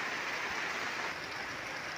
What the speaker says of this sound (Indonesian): Anda bisa dengarkan rintik hujan.